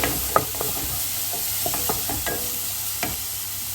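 Curry leaves fry in hot oil in a pan, giving a steady close sizzle broken by a few scraping stirs of a utensil against the pan.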